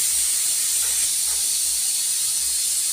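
A pressure cooker on a home stove lets off a steady, loud hiss of steam that runs unbroken throughout, close up and alone without any talk.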